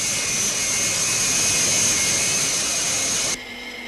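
High-altitude jet aircraft engine roar, a loud steady broadband rush with a whining tone, continuous for over three seconds then abruptly dropping to a quieter hiss.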